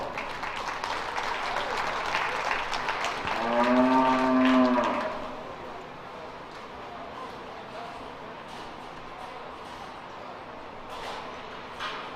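Cattle at a youth fair livestock show give a loud, drawn-out moo midway through, set against a steady wash of crowd applause and background chatter in a large show arena.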